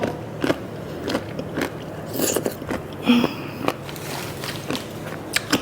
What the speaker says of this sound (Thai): กรอบมากฟังเสียง